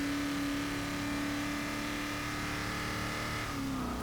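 A Hot Wheels car with handling upgrades in Forza Motorsport 6 holds a steady, droning engine note at moderate volume, with a slight pitch drop near the end and no talking.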